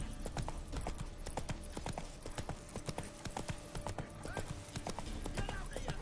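Horse hooves galloping in The Witcher 3 video game, a fast steady clip-clop rhythm close up and loud throughout, with a brief whinny and some game speech mixed in.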